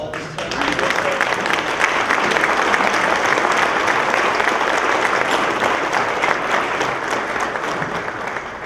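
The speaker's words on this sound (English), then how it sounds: "I would like you to give her a big round of applause" A full audience at a Salute to Excellence evening ceremony breaks into sustained applause for a nursing student, rising quickly after a soft start and holding steady, broad and thick for several seconds.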